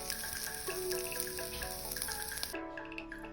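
Onions sauté in a pan, a steady close sizzle and crackle with scattered pops that carries on for a few seconds before easing, with no talking.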